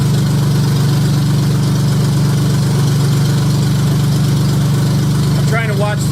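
A Honda J35 engine swapped into a Subaru Baja idles loudly and steadily from up close, its deep, constant rumble running without a break. Near the end a few brief chirps and squeaks rise over the drone.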